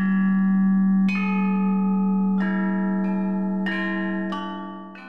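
A facsimile of an ancient Chinese bronze bell set played with wooden mallets at the Hubei Provincial Museum in China, several ringing strikes in a slow melodic line over a long sustained resonant hum.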